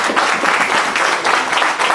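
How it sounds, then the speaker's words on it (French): An audience applauds a president at an honorary wall-of-fame ceremony, steady dense clapping filling the whole moment at close range with no talk over it. "vous pouvez applaudir le président."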